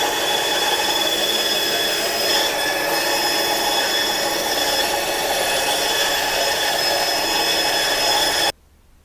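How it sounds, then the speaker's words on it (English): A steady, loud high-pitched whir of a sanding drum on a drill press grinding rough wooden edges, continuous for several seconds before cutting off abruptly. "now we're going to sand these rough edges of this arc on this on my drill press"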